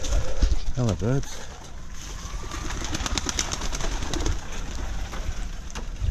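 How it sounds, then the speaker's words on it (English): Homing pigeons give a short burst of soft, rolling coos near the start, over steady outdoor background noise, with a person talking nearby throughout. "Homing pigeons."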